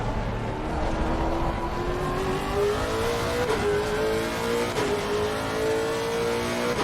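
A GT race car in the racing game Assetto Corsa Competizione drives with a loud, continuous engine note. Its pitch climbs steadily through the gears, with brief dips at each shift, and no one speaks.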